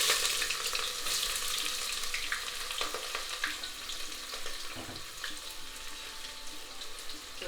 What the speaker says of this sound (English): a ladle spoonful of oil that's already in the dechi, and the 2 chopped onions that can go in now